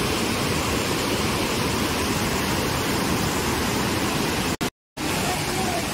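A waterfall and a flowing stream run beside Dhutpapeshwar temple in Rajapur, Konkan. The rushing water makes a loud, steady, close roar that cuts out briefly near the end.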